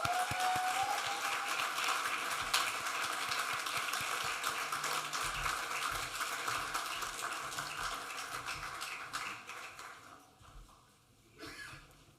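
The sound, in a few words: audience applause at city address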